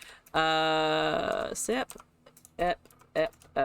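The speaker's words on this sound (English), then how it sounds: "Typing" Typing on a computer keyboard, heard as short clusters of clicks that come in brief bursts, mixed with a tonal voice-like sound near the start.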